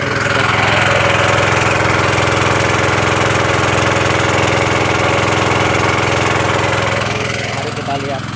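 A diesel water pump (alkon) runs steadily at a well roughly 8 to 10 meters deep, its loud close engine drone holding an even pulsing throb with a rattling knock for the whole stretch.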